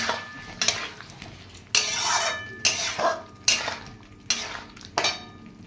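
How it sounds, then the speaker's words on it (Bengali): Spice masala with sour yogurt being stir-fried in a pan for niramish alur dum, heard as a rhythmic series of spoon scrapes and clanks against the pan about once a second, close and clear with no talk. "দিয়ে আবারও মশলাটাকে ভালো করে একটু কষিয়ে নেব"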